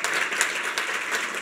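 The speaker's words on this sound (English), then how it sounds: "I want to give a round of applause to Facebook," A crowd claps during closing remarks at the ARFWest event, a thick, continuous burst of applause from many people that stays close and full for its brief span.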